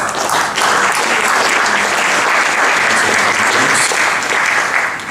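Audience applause fills a room at a Mobile Monday Silicon Valley tech meetup, a steady, dense wash of clapping that holds loud for the full five seconds with no talk over it.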